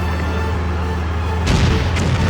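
Loud engine hum underlies a burst of explosion noise from the PS2 game Stuntman, which strikes near the one-and-a-half-second mark and is followed by a second, smaller blast shortly after, both close and prominent.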